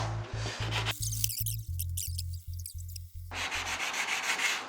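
Rhythmic rasping of sandpaper on wood during apartment renovation before painting, about a dozen steady back-and-forth strokes, close and clear with no talking.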